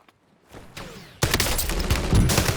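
Gunfire in Call of Duty Warzone, a quiet start with a few distant shots before a sudden loud burst of rapid automatic fire that keeps rattling to the end.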